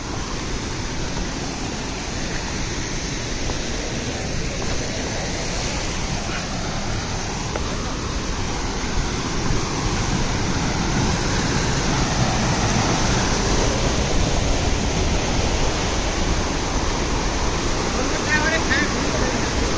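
Steady, dense rush of the Sardu river stream near Dharan, a continuous broadband roar of flowing water filling the whole stretch without pause, close and loud.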